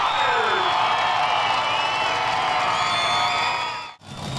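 A large crowd at a KC Raceway monster truck show cheers and whoops loudly and steadily, then the sound breaks off sharply near the end before returning.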